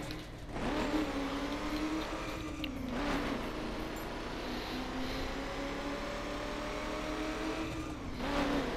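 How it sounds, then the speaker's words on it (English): A Cadillac Eldorado engine in the racing video game The Crew revs hard and continuously, rising and falling in pitch as it climbs toward the rev limiter, loud and close with no talking. "Oh, when it hits that rev limit, it just sounds like amazing."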